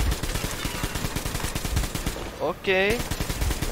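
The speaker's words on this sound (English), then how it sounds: "What is that machine gun he has" Rapid machine gun fire in the Metro Exodus video game rattles loudly and continuously, with a brief break and a tonal game sound near the end, while someone speaks briefly.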